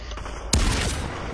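A single sharp gunshot from a VR battle-royale firefight in Population One cracks out loudly against a low rumbling game background, then rings briefly as the fight continues.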